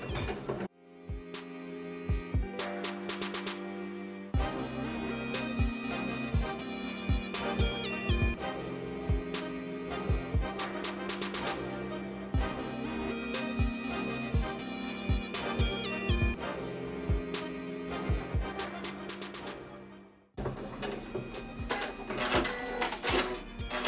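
A Janome 550E embroidery machine stitching an appliqué tack-down line, fast rhythmic needle clatter with whirring motor, close and steady, pausing briefly before resuming.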